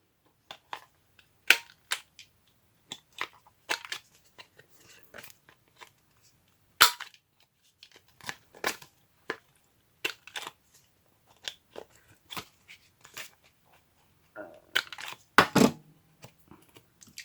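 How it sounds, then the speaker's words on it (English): A corner rounder punch snaps through paper corners in sharp, isolated clicks, with pauses in between and a brief cluster of rustles and clacks near the end. It is close and fairly quiet, with no talking. "What is wrong with my corner rounder?"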